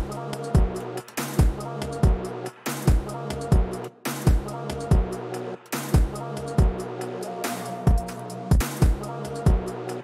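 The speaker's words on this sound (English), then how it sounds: "Put some stereo delay on it." A programmed drum loop produced in FL Studio with stereo delay plays in a steady repeating pattern, punchy kicks and snares with echoing repeats trailing each hit.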